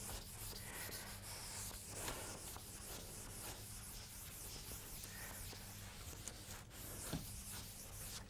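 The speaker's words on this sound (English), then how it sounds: "Let me rub this so that I can extend this diagram to the right." A blackboard diagram being erased, heard as continuous faint rubbing and scrubbing strokes close by, steady and unbroken with no talk.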